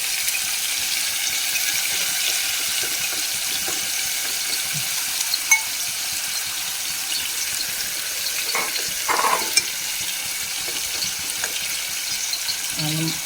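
Boneless chicken sizzles steadily in a pan for chicken rice, a constant loud frying hiss with occasional scrapes and clinks of stirring, and no voices.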